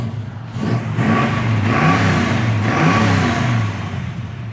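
A 1967 Chevrolet Camaro RS engine rumbles close by, its deep note rising and falling through a few quick revs before easing back, with no voices present.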